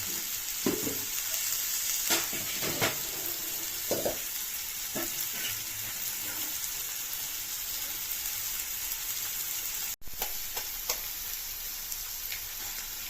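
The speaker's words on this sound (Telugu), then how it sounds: "పలగంటాకు ఇలా బాగా ఉడకబెట్టి వెయ్యాలి బాగా ఫ్రై అవ్వాలి డీప్ ఫ్రై" Boiled ponnaganti greens deep-fry in a pan, with a steady, loud oil sizzle throughout and occasional scraping stirs close by.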